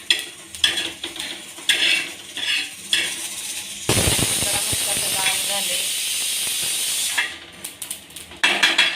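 Loud steady steam hiss from a pressure cooker whistling several times, lasting several seconds, between clattering kitchen sounds and voices.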